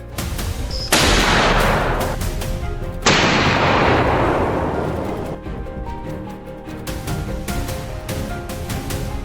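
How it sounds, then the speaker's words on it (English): Two loud, sharp rifle gunshots in a forest about two seconds apart, each with a long rolling echo that fades slowly, followed by quieter distant bangs and clicks. "fired the last shot of the day"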